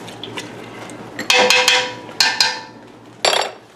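A spoon stirs muscadine juice and white sugar in a pot, producing three bright metallic scraping and clinking bursts against the side, loud and close, with quiet gaps between.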